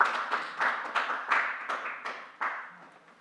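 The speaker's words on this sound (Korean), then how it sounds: "여러분 박수 좀 부탁드립니다." Applause from a small audience at a university-industry exchange meeting, a sparse rhythm of individual claps close by that gradually thins out, with no voices over it.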